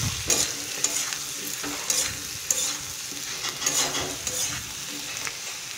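Potatoes and small fish sizzle in a pan with turmeric while being stirred for kucho macher chochchori, with repeated spatula scrapes and knocks over a continuous frying hiss, close by and moderately loud.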